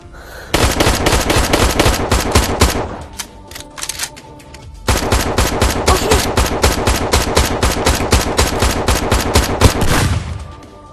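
Sustained heavy automatic gunfire in the VR shooter Downshot, loud and close, in two long rapid bursts separated by a brief lull with scattered shots.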